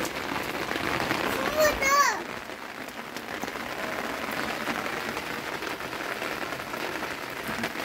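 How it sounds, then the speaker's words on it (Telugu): Rain falls steadily on a village home during a rainy day, a dense close hiss of drops on surfaces running throughout, with a brief bit of rattling and clatter near the start and no clear talking. "వాన పడుతుంది"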